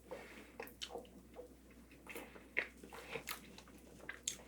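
Someone close by bites and chews a strawberry cake with a berry-flavoured filling, making soft, moist chewing and crunching sounds in short, irregular bursts. The room is otherwise quiet and no one speaks.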